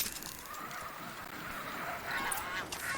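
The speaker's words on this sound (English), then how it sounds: "Oh, goose!" Geese honk faintly in the distance in Horizon Zero Dawn, a few scattered calls rising near the end over a hissy outdoor ambience.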